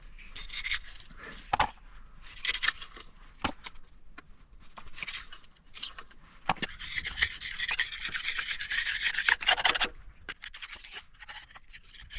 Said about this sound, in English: I guess I'm gonna have to scrape some of the heavy stuff off first